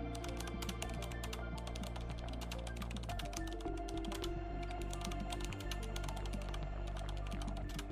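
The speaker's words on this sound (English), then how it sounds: "So let's type this in." Steady, rapid typing on a computer keyboard while entering a prompt into an AI chat tool, dense continuous key clicks over a constant background hum, with no talking.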